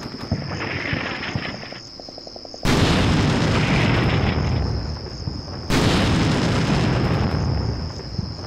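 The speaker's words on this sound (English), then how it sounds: "Artillery's coming in." Incoming artillery in the war game Combat Mission Shock Force lands as two heavy, booming blasts several seconds apart, set against a constant high chirping of insects in the background ambience.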